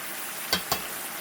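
Spice masala with chili powder fries in a pan with a faint steady sizzle, broken by two quick scraping clacks of a spoon stirring it.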